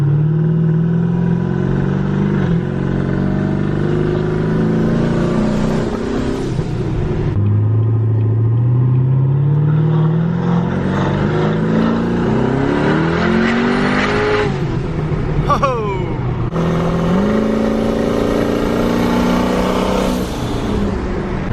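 A twin turbo Chevrolet Camaro ZL1 drives and accelerates hard, its engine droning and rising in pitch through repeated gear pulls, with a throaty rumble and brief shift breaks, loud and close throughout with no talk.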